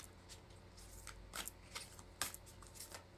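Tarot cards being shuffled by hand, soft papery riffles and slides close up, with a couple of sharper flicks, fairly quiet.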